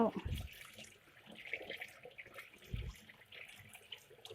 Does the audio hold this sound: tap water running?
yes